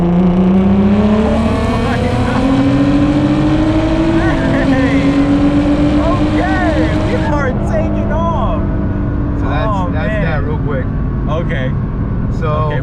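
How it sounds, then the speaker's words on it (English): A Nissan GT-R R35 on a dyno doing a roll and boost run, its engine roaring loudly and climbing in pitch through a gear change, then dropping away to lower, uneven revving. "I'm gonna go ahead and do the roll and boost on the car"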